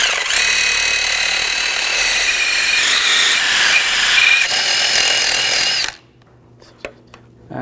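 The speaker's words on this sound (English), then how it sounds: "I'm going to use a wire brush and just clean up some of this corrosion." A wire brush scrubs corrosion off the wheel hub of a 2006-2009 Audi S4, a loud, close, continuous grinding rasp lasting about six seconds before stopping abruptly, followed by a few faint clicks.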